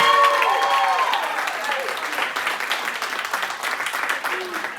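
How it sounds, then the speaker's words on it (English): Audience applause at a live improv show, steady dense clapping from a crowd that fills the room and slowly tapers, with a few cheers mixed in near the start. "can we give a round of applause to like the booth?"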